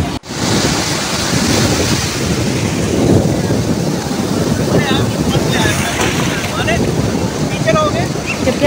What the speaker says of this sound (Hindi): यहाँ पर आप समुद्र की लहरों को एंजॉय कर सकते हैं।